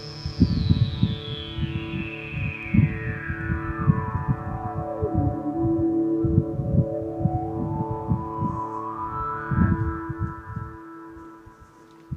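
A synthesizer tone sweeps slowly down and back up, washed in reverb, over a throbbing low pulse and steady hum.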